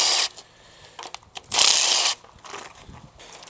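Ratchet wrench loosening oil pan bolts on a Thunderbird big block engine, heard as a few separate bursts of rapid clicking, close and fairly loud, with quiet pauses between them.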